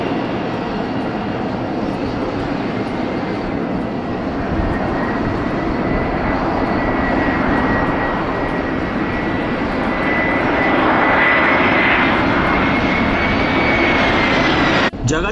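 An airplane coming in to land at Paro airport in Bhutan, heard as a loud, steady engine roar with a thin whine above it that persists for the whole stretch and swells slightly near the end, with no voices.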